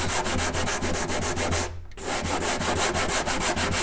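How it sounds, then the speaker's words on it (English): Steady rhythmic rasping of 120-grit sandpaper rubbed back and forth over a wooden guitar body, close and loud, with a brief pause partway through before the strokes resume. "otherwise you're going to be bored just watching me sanding"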